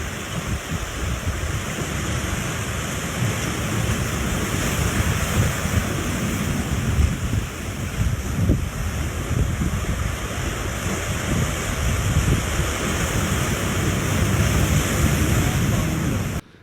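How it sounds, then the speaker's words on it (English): Sea waves wash steadily onto a shore, a continuous broadband surf roar with gusting wind buffeting the microphone throughout, no tide fully in yet. "So here's the sea."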